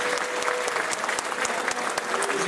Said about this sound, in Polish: Przed Wami, gorące brawa!